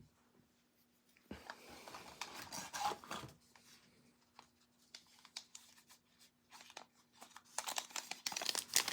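A Star Wars Unlimited card booster pack wrapper is opened up close, with bursts of crisp crinkling and tearing foil separated by quieter pauses.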